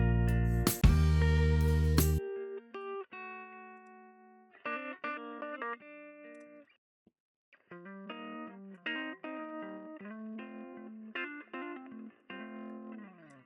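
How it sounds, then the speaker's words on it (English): Electronic instrument notes with a reverberant wash play in short melodic phrases, with brief gaps of silence between passages and a loud burst at the start. "now that I've settled on that reverb, I'm going to see how it sounds on the other instruments"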